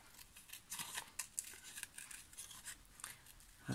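Quiet, close snips of scissors cutting paper in short irregular bursts, with faint rustling of paper between cuts.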